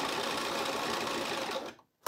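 A sewing machine stitches a straight seam in fabric, running steady and close, then stopping briefly before a short restart at the end.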